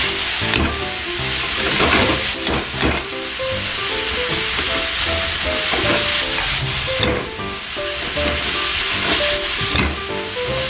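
Hita-style yakisoba noodles sizzle loudly in a hot Teflon pan while utensils scrape and toss them, a steady frying hiss broken by irregular clatters of stirring.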